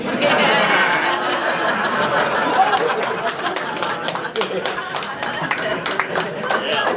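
Comedy club crowd at the Ann Arbor Comedy Showcase breaking into applause after a political joke, rising into brisk clapping mixed with laughter and chatter that swells over the murmur of the room.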